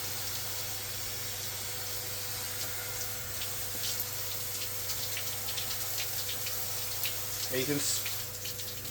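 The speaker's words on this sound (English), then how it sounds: "and let that just flush through the pot." Water flushes through a potted nepenthes plant and its fast-draining potting mix, a soft, low trickle and splash over a steady background hum, with a brief spoken word.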